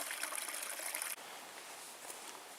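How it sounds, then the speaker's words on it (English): A small stream trickles along a backpacking trail in the Porcupine Mountains, a steady close hiss of running water that drops slightly in level partway through, with no voices. "I'm going to stop at this little stream and filter some water before you get on the trail."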